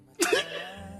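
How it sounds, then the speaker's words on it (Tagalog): A single short cough, close and fairly loud, with a faint low hum continuing afterward. "ubo ko ng ubo"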